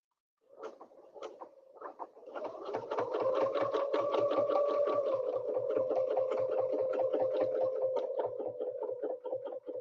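Home sewing machine stitching a quilt, starting with a few separate taps and clicks, then settling into a steady, fast, even needle rhythm that runs close and loud to the end with no talking.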